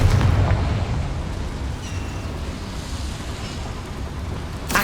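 Confringo spell blast in Hogwarts Legacy, a loud explosive burst at the start that rumbles and decays into a long low roar, with another sharp hit at the very end.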